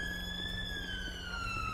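Ambulance siren in the police game GTA LSPDFR, a steady wailing tone sweeping slowly downward, loud and continuous over low traffic rumble.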